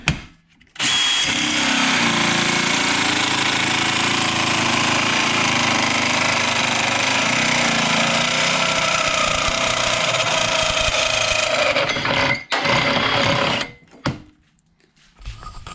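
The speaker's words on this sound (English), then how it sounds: "This is an Amazon tube notcher, and it does pretty damn good." Amazon tube notcher cutting into steel tube, a loud, continuous grinding roar from a power tool that runs for about twelve seconds, then stops and sputters briefly.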